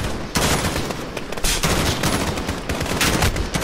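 Heavy gunfire from the Call of Duty Modern Warfare video game, with dense bursts of automatic fire and sharp shots rattling loudly and continuously with no talk.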